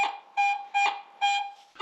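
Three loud, steady electronic beeps from a metal detector, evenly spaced and clear, with no voices.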